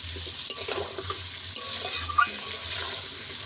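Fried taro pieces stirred with spices in a pan for a hilsa fish curry, a near scraping stir over a gentle sizzle with brief clinks and wet shuffling.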